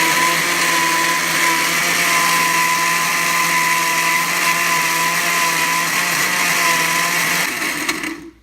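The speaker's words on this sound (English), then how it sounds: "Now to it, I will add milk and I will again blend it." An electric blender whirring through a mango pudding mixture with added milk, a loud, steady high-pitched motor drone that holds constant before abruptly shutting off at the end.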